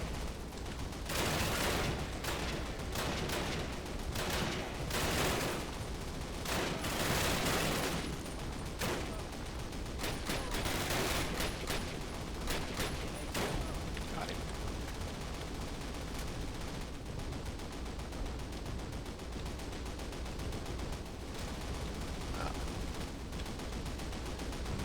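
Rapid bursts of FG42 rifle fire in Call of Duty's D-Day 1944 battle, loud and close, with dense volleys of gunfire and explosions crowding the first seconds before settling into steadier, sporadic shots amid constant battlefield din.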